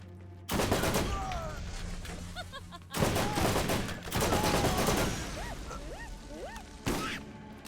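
Loud bursts of gunfire from the video game Borderlands arrive in several separate volleys, with chirpy electronic game effects between them and a voice talking at times.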